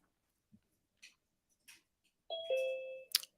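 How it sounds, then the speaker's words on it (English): Electronic doorbell chime announcing an incoming call, a two-tone ding-dong ringing out clearly after a few soft ticks and clicks, with a bright short tone closing it. "Ding dong, Mr. Kramer"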